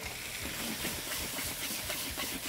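Beef sautéing with onions and fresh garlic in a pan gives a steady, broadband sizzle and hiss, close and even, with faint crackles scattered through it and no voices.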